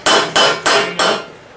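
A hammer strikes steel while a sallet helmet is being raised: four sharp, ringing blows land at a steady, even pace, close and loud, each one decaying briefly before the next.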